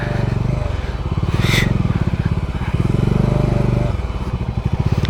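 Motorcycle climbing an offroad hill track at Parasnath Hill in Jharkhand, its engine loud and close with a steady pulsing throb that surges and eases as the throttle changes.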